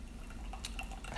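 Tea is poured from teaware, making light dripping and splashing into a cup, faint and close, with soft glassy clinks over a low background hum.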